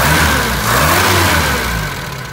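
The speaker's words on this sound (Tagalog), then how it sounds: "Kapag pa-i-rev ko yan." A car engine with a vacuum advance fault revving, a loud close mid-pitched roar that rises, holds and then eases slightly toward idle, with no talking over it.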